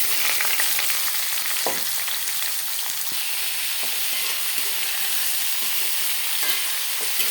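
Onions frying in hot oil with mustard seeds in a pan, a steady broadband sizzle with intermittent scraping stirs throughout, close and continuous, no voices.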